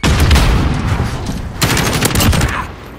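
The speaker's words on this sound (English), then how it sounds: "Throwing stun grenade." A stun grenade going off in Modern Warfare 2019 hardcore gameplay, loud dense blasts and crackling gunfire filling the whole moment, with a second burst partway through.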